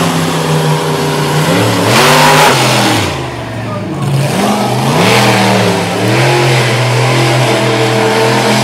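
The Bigfoot monster truck's big engine revs and surges loudly at a monster truck event in Little Valley, New York, climbing and dipping repeatedly with a crowd and an announcer's voice underneath.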